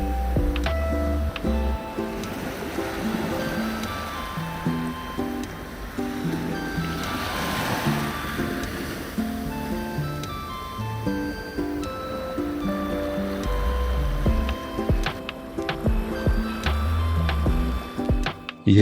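Surf washing onto a beach at Morro de São Paulo, Brazil, a steady broadband wash of breaking waves heard alone throughout, with a few faint tonal sounds mixed in.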